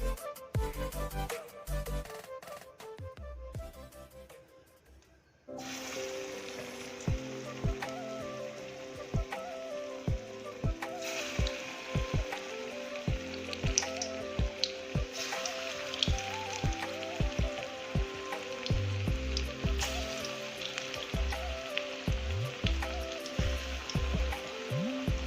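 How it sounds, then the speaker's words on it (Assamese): Bora fritters fry in hot mustard oil in a wok. The first few seconds are quiet, then a loud, steady crackling sizzle runs throughout, broken by frequent sharp pops, with no voices. "এতিয়া মই বৰকেইটা ভাজি ল'ম"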